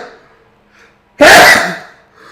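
A single loud, close human sneeze bursts out suddenly after near silence, then fades into a soft breath.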